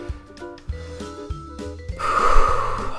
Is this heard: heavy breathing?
yes